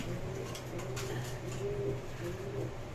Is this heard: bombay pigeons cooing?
yes